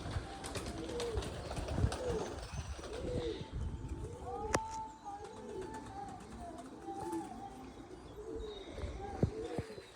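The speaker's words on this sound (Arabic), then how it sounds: "بالصيف تسبح الطيور يوميا ما عليه شيء" Pigeons coo repeatedly in soft, rolling phrases at close range, over a steady bed of background chirps and light ambient noise.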